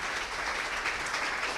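A church congregation applauds during a Spanish-language sermon, a brief, steady wash of dense clapping.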